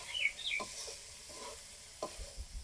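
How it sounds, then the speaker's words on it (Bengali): Boiled figs frying with meat spices in a pan, a soft sizzle with a few scraping stirs, quiet and close, no talk. "এখন মাংসের মতো ঠিক এগুলোকেও একই রকম ভাবে কষাইতে হবে।"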